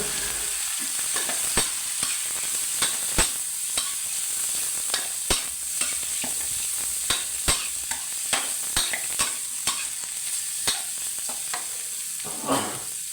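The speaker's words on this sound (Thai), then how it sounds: "พระเอกของเราครับปลาหมึกหมดปลาหมึกที่เราลวกแล้ว" Blanched squid stir-fried in a hot wok with dried and fresh chilies, a steady close sizzle broken by repeated sharp scrapes and clacks of a spatula, without talk.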